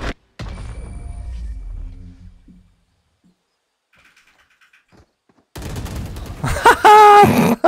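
Gunfire in the video game Valorant comes as a quick burst of sharp shots, then a quiet lull, then a loud close flurry of rapid firing with ringing metallic tails.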